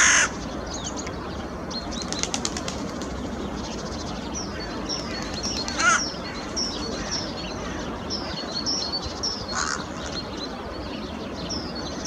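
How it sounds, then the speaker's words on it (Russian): Crow in a city centre, likely reacting to a sparrowhawk, gives several harsh caws from overhead over steady outdoor background noise, with brief chirps and wing flaps in between. "Ворона сверху с возмущением наблюдает."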